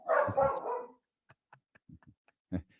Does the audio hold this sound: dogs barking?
yes